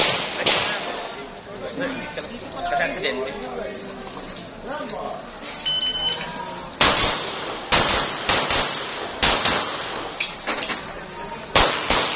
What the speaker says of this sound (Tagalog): si Aaron, panoorin nyo kung paano siya bumaril